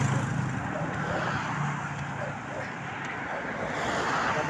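Highway traffic in Lubao, a continuous broad roar of passing vehicles mixed with wind buffeting the microphone, loud and steady with no distinct individual cars standing out.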